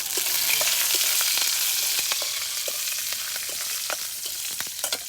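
Malancha and chhati greens going into a pan of browned onions and chilies frying in oil produce a continuous moderate sizzle with light crackling pops and stirring noises, no talk.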